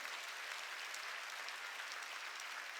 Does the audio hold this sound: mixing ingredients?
no